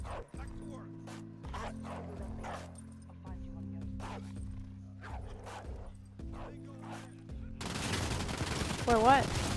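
A dog in the Call of Duty Modern Warfare campaign barks in short, repeated bursts over a low droning game score, with a loud rattle of gunfire at the end.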